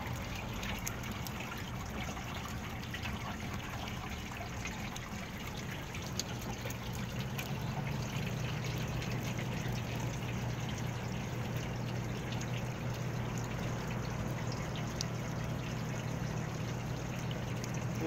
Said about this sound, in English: The water wasn't coming down the front of that one.